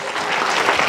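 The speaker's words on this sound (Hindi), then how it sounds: "जोरदार तालियां बजाकर" An audience claps loudly and steadily in a dense, close burst of applause with no voices over it.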